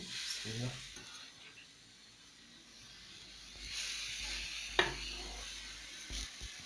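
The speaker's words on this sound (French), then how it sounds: "Je vais venir donc sur ma plaque mettre donc les steaks à cuire" Steaks for hamburgers are laid on a hot griddle plate and sizzle, a soft steady hiss rising after a few seconds with a sharp clink partway through; quiet and close.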